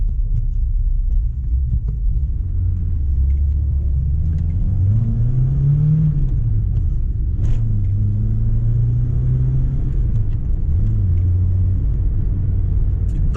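A VW Golf Mk2 youngtimer driving through the city, its engine rumbling steadily and rising in pitch as it accelerates, then easing off and pulling again, loud and close from inside the car, without voices.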